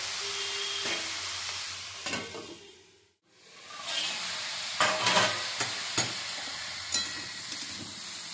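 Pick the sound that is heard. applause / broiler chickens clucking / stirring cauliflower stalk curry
stirring cauliflower stalk curry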